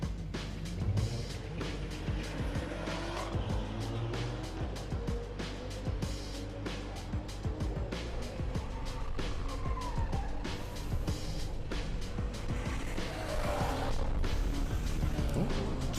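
Cars drag racing at Santa Pod Raceway during Ultimate Street Car 2023, a BMW against a VW Up GTI, with steady loud engine roar, rising revs and passing-car sweeps across the whole stretch amid crowd and track noise.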